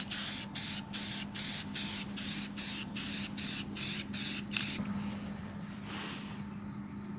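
A spray can about a third full hisses in a paint booth, first in about ten short regular bursts, then one longer continuous spray, close and steady against a faint background hum.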